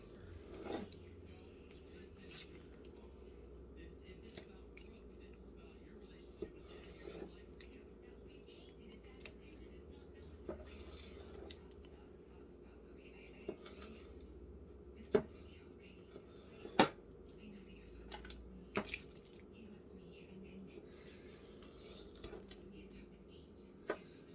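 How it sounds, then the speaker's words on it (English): Homemade bread for turkey stuffing being cut into smaller strips with a knife: faint, scattered knocks of the blade against a board over a quiet, steady room hum. "Now I'm going to cut these down into smaller, easier to manage strips."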